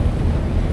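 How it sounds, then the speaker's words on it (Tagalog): Strong wind buffets a microphone out on a boat at sea in choppy water, a steady low roaring rush with no talk. "Malakas ang hangin, papasok."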